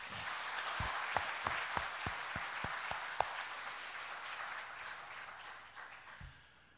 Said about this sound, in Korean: 그분을 위해서 한번 박수를 한번 보내주십시오.